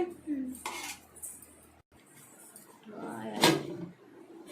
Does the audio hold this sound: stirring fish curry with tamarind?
yes